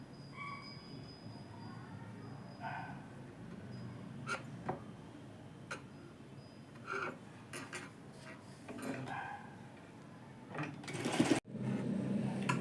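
A sewing machine stitching along the edge of a baby frock, a steady low mechanical whir with intermittent clicks and handling knocks, ending in a louder burst near the close.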